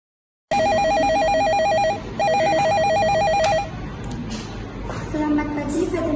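A telephone rings with a loud electronic warbling tone in two close bursts, then stops as background voices and room noise take over.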